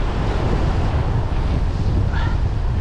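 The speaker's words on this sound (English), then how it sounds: "The wind's starting to pick up, so it's a little chillier." Strong wind gusts buffet the microphone beside the river at Ohiopyle, a loud continuous rushing roar with no talking.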